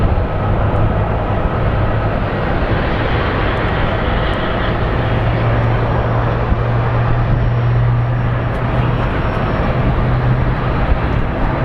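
A Condor Air Boeing 767 airliner passes at Phoenix Sky Harbor airport, giving a loud, steady broadband jet roar with a low droning hum that holds for the whole stretch, with no talking.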